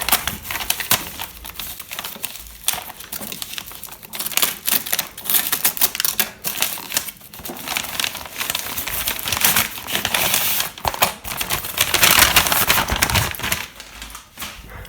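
A parcel of banknotes is cut open and unwrapped up close, with dense crackling, snapping and crinkling of packaging and tape, and rasping cuts throughout.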